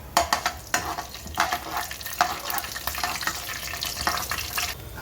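Cumin seeds and split lentils (urad dal, chana dal) frying in hot oil for a tempering, with mustard seeds already popped: a steady close sizzle broken by sharp crackles and stirring clicks, no talking.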